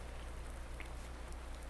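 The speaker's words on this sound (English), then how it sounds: "And it is still raining" Steady, even rainfall in the Farming Simulator 19 video game, a soft continuous hiss that holds at a constant low level throughout with no distinct drops standing out.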